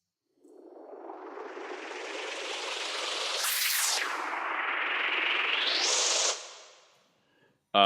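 A synthetic, vocoder-processed wash of noise with a rising and falling filter sweep, then a bright high hiss before cutting off abruptly.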